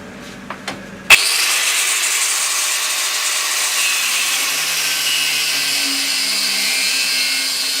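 After a few light knocks, a power tool starts abruptly and runs at a steady, loud whine, cutting off metal tabs for a wind turbine mount.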